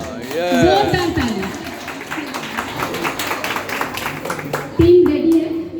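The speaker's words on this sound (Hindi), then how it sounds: "तो मैं चाहूंगी हमारी पूरी टीम के लिए आप लोग जोरदार ताली दें, जोरदार ताली।" Audience members at an event in Uttarakhand clap loudly for a team, a rhythmic burst of hand claps mixed with crowd noise, with a voice and a sharp tonal sound near the start and a louder thump near the end.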